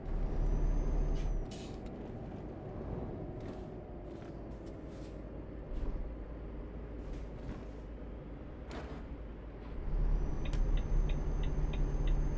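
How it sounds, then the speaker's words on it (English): Heavy truck on the road with low engine drone throughout, loud hissing air-brake bursts near the start and end, and short rattling clicks, recorded from close by. "somehow this truck sounds horrible"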